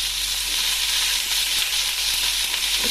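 Eggs and chopped carrots fry in oil and ghee in a kadai with a loud, continuous sizzle that hisses evenly throughout, close by and uninterrupted by speech.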